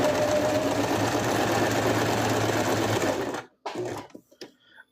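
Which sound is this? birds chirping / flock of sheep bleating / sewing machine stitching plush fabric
sewing machine stitching plush fabric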